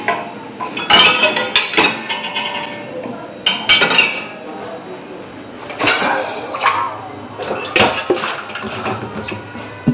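Steel vessels being loaded into an IFB Neptune SX1 dishwasher, close irregular clanks, knocks and metallic clinks of pots and cutlery set into racks, in bursts with brief pauses.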